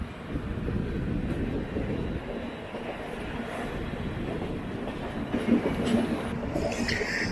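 The Mysuru–Kochuveli Express (16315) rolls out of a city station, a continuous low rumble of wheels and carriages with soft rhythmic clacking, steady and moderately loud, with no one talking.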